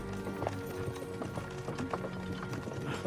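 Horse hooves trotting in the medieval game Kingdom Come: Deliverance, a steady clip-clop rhythm that repeats evenly at close range over a busy, constant background of game ambience.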